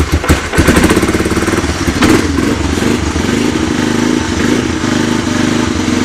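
A 1985 Honda 250SX engine cold-starts up close with the choke on, sputtering and clattering briefly before catching into a loud, steady, slightly uneven idle.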